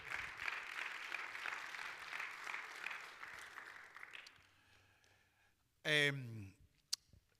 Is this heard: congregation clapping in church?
yes